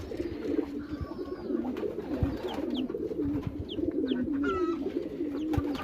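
Pigeon cooing while sitting on eggs, soft repeated low coos in a steady rhythm, close by, with a few faint chirps from other birds in the background.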